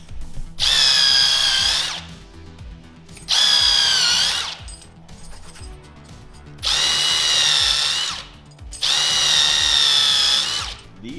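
Power drill boring holes through leather strap pieces for a harness basket, four loud sustained high-pitched whining bursts, each a second or two long, separated by short quieter gaps.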